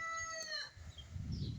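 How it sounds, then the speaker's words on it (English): A chicken crows loudly with a drawn-out, harmonic call for about half a second, then lower clucking and scuffling noises continue close by. "This chicken is annoying."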